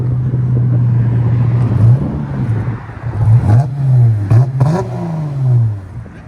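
A 2013 Dodge Charger AWD with a 3.6L V6 and FLO 409 exhaust idles with a loud, low drone, then blips its throttle several times in quick rising revs that fall back, heard close with no talk.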